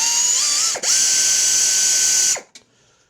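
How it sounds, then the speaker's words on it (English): An air ratchet backing out small 8mm screws from the recoil starter cover of a Toro 821 snow blower, a loud steady pneumatic whir with a brief dip, then cutting off and leaving a short clack. "In the interest of saving time, I'm going to use my air ratchet."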